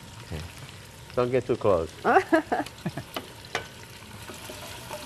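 Onions frying in a pan give a continuous sizzling hiss beneath several people talking nearby, the voices rising over the frying for much of the clip.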